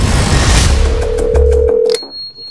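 In a movie trailer, a telephone rings with a bright electronic tone over a loud swelling score, then the music cuts off and a thin sustained tone lingers in near silence.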